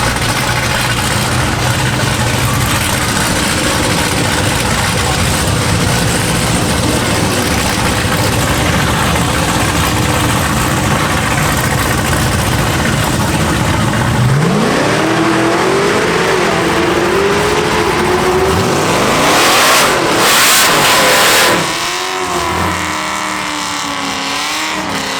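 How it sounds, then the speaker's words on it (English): Cadillac and Mopar Charger sedans at the TX2K event, a loud idling rumble giving way to sharp revving climbs and a roaring launch as the cars race off, close and then fading, with crowd noise beneath. "Got two sedans out there. Cadillac versus Mopar Charger."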